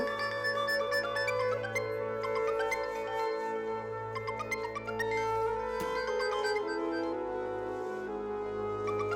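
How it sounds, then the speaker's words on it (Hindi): A melodic electronic phone ringtone plays continuously, bright and busy with repeating notes over a steady low drone. "क्या फोन बज रहा है, सुन लो।"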